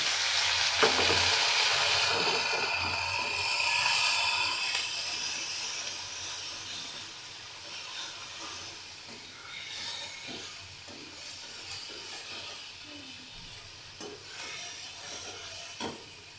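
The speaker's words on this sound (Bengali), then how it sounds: "আমি এটা হালকা করে ভেজে নেব, তারপরে মশলাটা দিয়ে দেবো।" Capsicum, carrot and tomato fry in a pan for a vegetarian curry. A steady sizzle with occasional stirring scrapes runs throughout, loud at first and then settling to a softer hiss.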